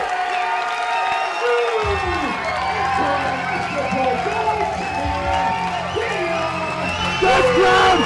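Wrestling crowd at a WrestlePro interim gold title match roaring, whooping and cheering loudly and continuously throughout, with shouts rising over the din and a surge near the end.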